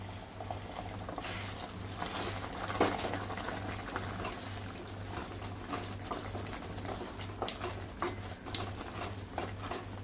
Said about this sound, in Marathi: गरमच पाणी घालूया या सेजला